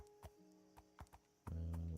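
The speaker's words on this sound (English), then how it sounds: "riding a horse or a mule through a forest" In Minecraft, a horse walks through a forest, its hooves giving a series of soft, spaced clip-clops, followed by a brief tonal horse sound near the end. The sound is quiet overall.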